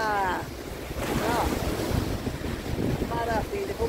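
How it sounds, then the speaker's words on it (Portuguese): Ocean waves breaking at a beach, a broad surging wash of surf with wind buffeting the microphone, rising and falling over several seconds while a person talks briefly at the start and end. "tem gente que gosta de ver as ondas passando"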